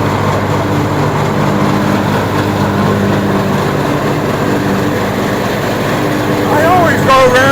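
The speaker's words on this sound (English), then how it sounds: "Now you're ready to mow. Turn your throttle up to 3/4." A riding lawn mower engine runs with the throttle at three-quarters, giving a steady, loud, close drone throughout as a person talks over it.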